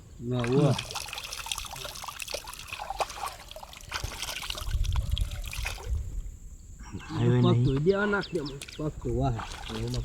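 Cold water gushes and splashes from a borewell, a close, steady pour most evident between bouts of loud talking by several people.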